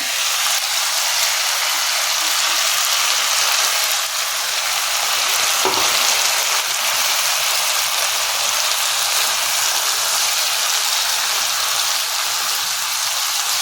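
A ground spice paste, added after asafoetida, fries in oil in a pan for a vegetarian Bengali Malabar spinach ghonto, giving a loud, steady, close sizzle with one brief stirring scrape partway through.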